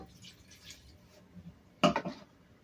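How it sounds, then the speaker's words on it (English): One cup of water poured into a pot of chili with sliced onions, a brief loud splash late in the moment after quiet kitchen background. "1 cup of water."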